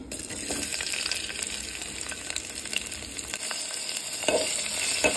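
Mustard seeds, green chilies, onion and curry leaves sizzle steadily in hot oil as a tempering. A bright, continuous frying hiss is broken by occasional stirring clinks, and no one speaks.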